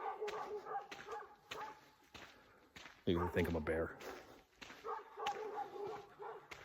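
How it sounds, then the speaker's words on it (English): Dogs barking during an outdoor walk, a short burst of several quick barks at moderate distance, with someone talking over them and footsteps throughout. "I'll wait till I get past the dogs."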